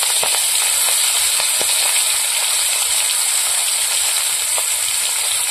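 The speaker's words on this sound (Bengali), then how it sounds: "এবার মাথাগুলো ভেজে নেব" Turmeric-coated fish heads fry in hot oil, giving a loud, steady, close sizzle with occasional small pops and crackles.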